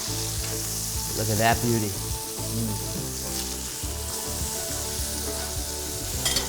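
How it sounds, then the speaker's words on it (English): Steaks searing in a hot pan give a steady, close sizzle with a few brief stirring or shifting scrapes, while one person speaks a short remark over the frying. "we want to cook our steaks about 2 minutes per side"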